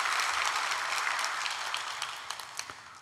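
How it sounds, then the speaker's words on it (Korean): Congregation applause at a special early-morning prayer service in a church, a broad wash of clapping that gradually fades, leaving a few scattered individual claps near the end. "감사와 격려하는 박수 하겠습니다"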